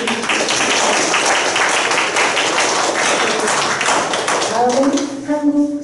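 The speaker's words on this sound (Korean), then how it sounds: "다시 한번 큰 박수로 축사에 맞춰주십시오." Audience applause after a congratulatory speech at the opening ceremony of an international academic conference, dense steady clapping that fades near the end as a voice begins speaking.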